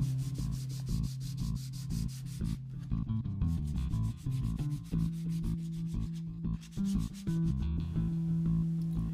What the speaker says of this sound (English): I'm just going to give it a good sanding all the way up to 320 grit.